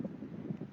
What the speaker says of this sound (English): A little bit windy. You can see it on the sea.